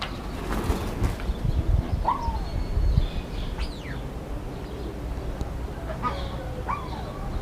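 Curassows (hokko birds), males and a female, in an exotic bird collection give several short rising whistled calls at moderate distance, spaced a few seconds apart over a steady murmur of background noise.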